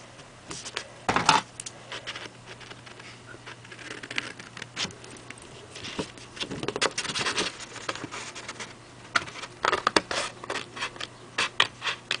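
Scissors snipping through a piece of paper, a steady run of close, crisp little cuts and rustles in a quiet room, with short pauses between strokes.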